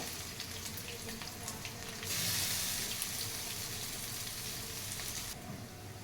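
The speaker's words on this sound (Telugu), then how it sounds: "అల్లం వెల్లుల్లి పేస్ట్ ఫ్రై అయిపోయింది" Ginger garlic paste sizzles and fries steadily in a pan, a continuous hissing spatter that swells louder midway and then eases back, with no voices over it.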